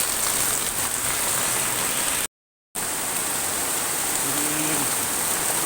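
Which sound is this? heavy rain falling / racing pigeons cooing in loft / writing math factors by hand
heavy rain falling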